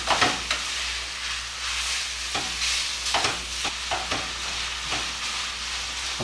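Sausage pieces frying in a fairly dry pan with little grease, giving a steady close sizzle broken by repeated sharp scraping stirs of a utensil, no talking.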